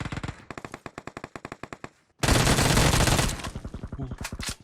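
Rapid automatic gunfire rattles in PUBG Mobile, loud close bursts of evenly spaced shots, then a brief pause, a dense roaring volley, and another run of rhythmic shots.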